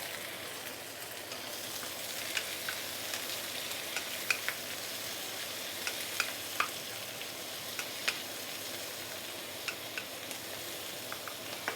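Prawns and cabbage stir-fry with garlic in a pan for braised noodles, a faint, steady, rain-like sizzle broken by occasional small ticks and pops.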